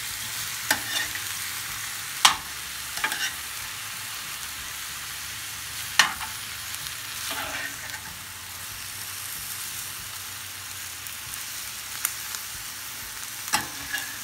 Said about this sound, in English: And we are going to stir.